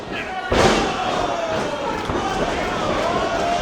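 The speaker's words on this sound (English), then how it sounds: "The crowd becoming alive." Crowd at a live indie wrestling match roars and cheers after a loud slam on the ring, the sustained noisy crowd swell carrying on steadily after the impact.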